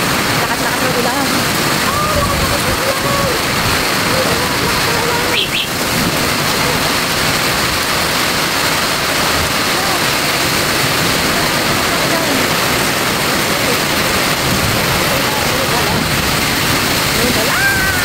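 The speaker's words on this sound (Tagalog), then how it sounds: "Lakas-lakas ng ulan." Heavy rain driven by wind pours down in the Philippines, a dense, loud, unbroken roar throughout, with faint voices under it.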